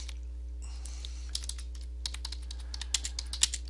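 Close computer keyboard typing, with irregular clusters of crisp keystroke clicks over a low steady hum and no speech.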